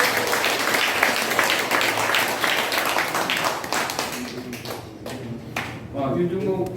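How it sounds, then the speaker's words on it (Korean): An audience at the fifth-anniversary ceremony of a national literature research society claps heartily. The full, dense applause gradually thins and fades, and a voice starts speaking near the end. "우리 큰 박수로 한번."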